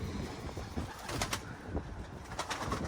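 Racing pigeons released from their loft in the morning wind give soft cooing and flutters of wings, faint and somewhat distant against a steady outdoor background hiss.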